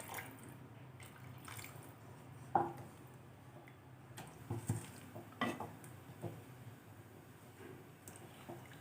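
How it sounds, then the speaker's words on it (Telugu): Water is poured into a tangy prawn curry with drumsticks and raw banana and stirred, giving soft faint scraping with a few sharp clinks of a utensil against the pot. "వాటర్ వేసుకొని కలుపుకొని"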